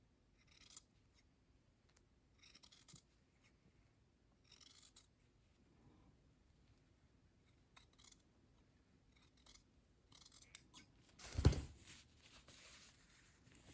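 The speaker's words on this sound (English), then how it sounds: "we're going to trim away the seam allowance, and we need to trim it down to 3/8 of an inch" Sewing scissors trim the seam allowance of a shirt-dress collar stand facing in quiet, intermittent bursts of close snipping, with one sharper cut near the end.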